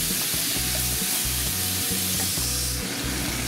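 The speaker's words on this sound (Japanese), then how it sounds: "固まりをなくすように炒めてください。" Ground meat stir-fried for soboro in a pan, a loud continuous sizzle with rhythmic scraping strokes of a utensil breaking up clumps.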